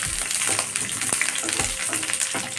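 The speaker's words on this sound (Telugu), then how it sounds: "ఇలా ఉల్లిపాయలను బాగా డీప్ ఫ్రై చేసుకోవాలండి" Sliced onions deep frying in hot oil for an onion masala curry, a dense continuous crackling sizzle with occasional stirring scrapes, close and fairly loud.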